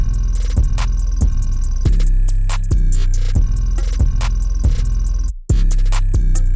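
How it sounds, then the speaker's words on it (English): A hip-hop drum loop with punchy kicks, booming deep 808 bass, and crisp hi-hat clicks in a steady rhythm, loud and upfront, briefly dropping out near the end. "so with the perks and the 808s, so far all the drums sound like this."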